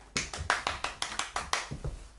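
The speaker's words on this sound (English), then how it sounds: "I know I clap for everything, but it just seems natural." A single person claps about nine times at a steady, fairly quick pace, each sharp slap close and distinct in an otherwise quiet space.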